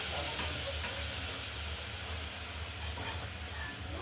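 Milk poured into a pan of sizzling mustard and poppy seed paste, cooking for a pabda fish curry; a steady broadband frying hiss and sizzle continues throughout with a low hum beneath.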